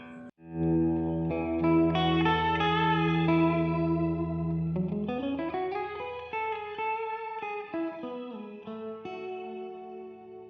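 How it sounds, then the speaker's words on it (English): A guitar run through a shimmer reverb pedal, among delay and reverb pedals such as the Keeley Caverns V2, sustains bright chords that bloom into octave-up shimmering tails, then bends and slides into a new swelling wash, loud and alone. "And then of course the shimmer reverb."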